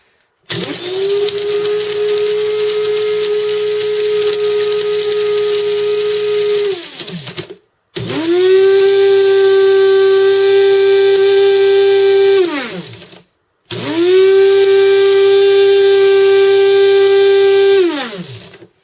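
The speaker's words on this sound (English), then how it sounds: "it usually takes me about 30 seconds to a full minute of grinding to get my seaweed down to a powder" An electric grinder whirring dried kelp seaweed into powder, running in three loud bursts of about five to seven seconds each with a steady high motor whine, stopping briefly between runs.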